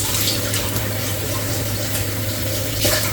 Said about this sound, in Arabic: نرش كده شويه ميه